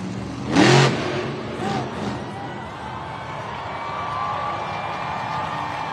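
The Terminal Velocity monster truck's big engine roars in a loud burst, then revs again in shorter surges while the truck holds a stoppie in an arena, with crowd noise in the background.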